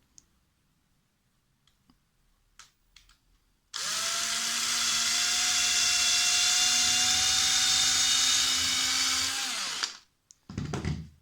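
A hand drill fitted with a 2.5 mm bit bores a hole in a scroll-saw workpiece, a steady whining motor tone held for about six seconds before spinning down, with small clicks and handling noises before and after.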